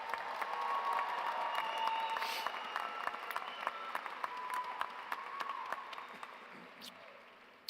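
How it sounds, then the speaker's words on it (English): Sustained applause from the audience at the Achieve Online 2025 graduation ceremony for the graduating class, a broad steady clapping with a few sharper claps standing out and a faint voice or tone underneath. "Let's give our graduates another round of applause,"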